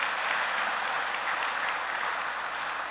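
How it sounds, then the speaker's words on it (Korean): A church congregation applauds for a county governor during a service, producing a steady, dense wash of clapping at moderate loudness with no gaps and no talking over it. "우리 이 군수님을 위해서 박수 한번 보내주셨으면 좋겠습니다."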